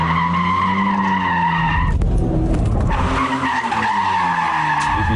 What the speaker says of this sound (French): Un pilote tellement doué que les 4 roues motrices de la GT-R ne l'empêchent pas de drifter.